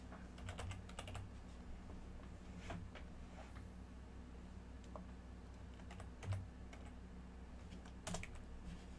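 Steady typing on a computer keyboard, quick irregular key clicks with occasional heavier strokes, close and fairly quiet, no voices.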